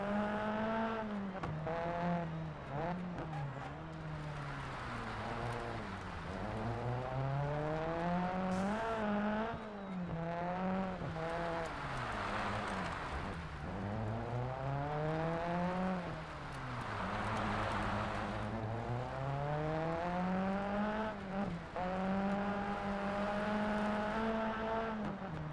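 Rally car engine in Sebastien Loeb Rally EVO with an H-pattern shifter and clutch, revs climbing and dropping through repeated gear changes, a continuous loud whine that swells and dips, with no talk.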